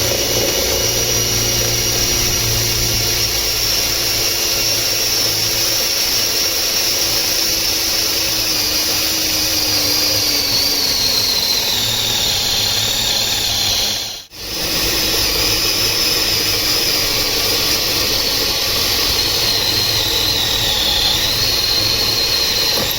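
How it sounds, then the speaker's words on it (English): A power drill bores steadily into a part on an old car in a scrapyard, a loud continuous whine and hiss with a shifting pitch, briefly cutting out once midway before resuming. "So if we go and drill into this"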